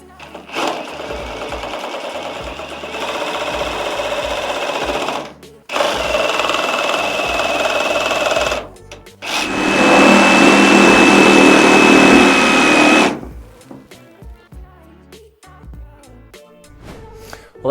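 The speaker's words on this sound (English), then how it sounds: "Always nice to get to play around with some power tools every now and again." A power tool cuts through an RV holding tank knife valve in three loud whining bursts of a few seconds each, the last the longest and harshest, with clattering handling noise in the pauses and after.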